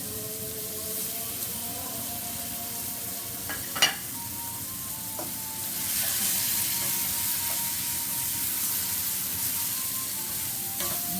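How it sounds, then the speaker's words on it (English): Plum tomatoes hit a hot pan of sausage and broccoli rabe, setting off a steady, close sizzle that swells louder partway through, with a short clatter of a utensil and faint stirring. "now we put the plum tomato"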